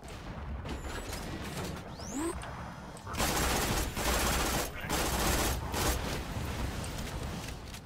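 The Commando's deployed sentry turret in Borderlands 2 opens up in a dense, continuous burst of rapid gunfire amid clanking mechanical noise, loud and sustained, after a few whooshing and whistling game effects.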